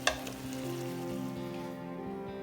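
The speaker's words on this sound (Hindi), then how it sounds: "अब इसको हमने फुल आंच पे कुक करना है।" Beef karahi cooks over full flame, giving a steady, close frying sizzle with faint stirring that stays even for the whole moment.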